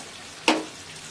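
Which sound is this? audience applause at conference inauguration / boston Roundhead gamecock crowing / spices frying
spices frying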